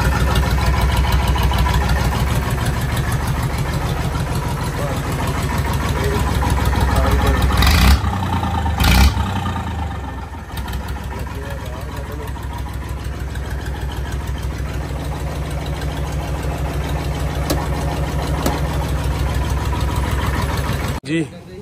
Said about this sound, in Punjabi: ਟਰੈਕਟਰ ਕਰ ਲਿਆ ਸਟਾਰਟ ਦਿਖਾਉਂਦੇ ਹਾਂ ਤੁਹਾਨੂੰ